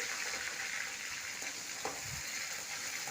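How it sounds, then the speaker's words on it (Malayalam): Mustard seeds, chickpeas, green chili and curry leaves fry in hot oil, giving a quiet, steady sizzle with a few faint pops and stirring clicks, heard up close. "ഇത് കടുക് കടലക്ക വറുത്തിട്ട് പച്ചമുളകും കറിവേപ്പില ഇട്ടു"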